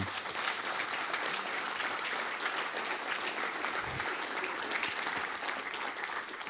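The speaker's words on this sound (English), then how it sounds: "give them all a round of applause" An audience applauds a panel at a discussion on co-management at Dreeite Nature Reserve, with dense, steady clapping that fills the room and continues without a break.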